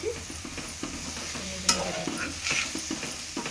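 A spoon stirs ivy gourd fry with garlic and chili in a pan, making repeated scraping strokes over a soft sizzle. It is close and moderately quiet, with one sharper clink of the utensil.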